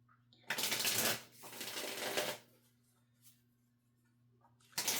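Tarot cards are shuffled in two quick riffling bursts, then a pause before a third burst starts, all close and fairly quiet.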